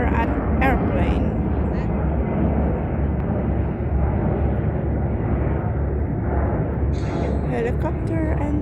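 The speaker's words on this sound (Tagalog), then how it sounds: "Helicopter and airplane." A fixed-wing airplane taking off gives a loud, continuous roar that fills the whole stretch, with faint higher noises near the start and end.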